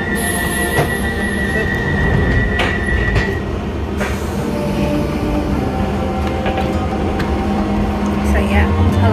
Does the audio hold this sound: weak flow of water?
no